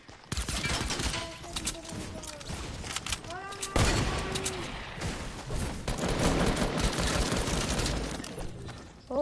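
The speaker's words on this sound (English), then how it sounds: "I got spammed with the turret." Rapid turret gunfire crackles in bursts throughout a video game fight, dense and fairly loud, mixed with other game effects while players talk over it.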